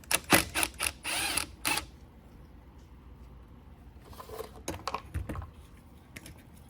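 A tool works a 10mm bolt on the carburetor bowl of a Honda FRC 800 rototiller, with quick bursts of close mechanical clicking and rattling separated by a quiet pause.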